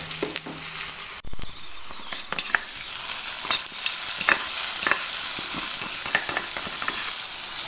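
Onion and curry leaves fry in hot oil in a clay pot for fish curry, a loud, close, steady sizzle with a sharp clatter early on and repeated spoon scrapes stirring throughout.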